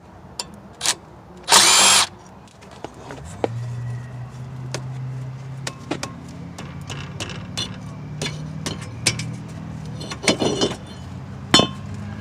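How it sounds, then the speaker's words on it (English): Power drill driving a T30 Torx bit to remove the rotor retaining screw on a 2005-2016 Chevy Impala front brake, with a short loud burst of drilling early on, then a low whirring hum and scattered metallic clinks and taps nearby. "I'm using a T30 Torx bit for removal"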